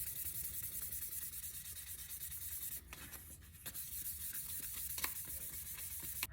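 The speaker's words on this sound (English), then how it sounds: "I just have a little sanding sponge under it to get a nice even sanding" Steady, close scratchy rubbing of a sanding sponge across a Nissan 350Z part, continuous with slight rhythmic strokes and a few brief pauses.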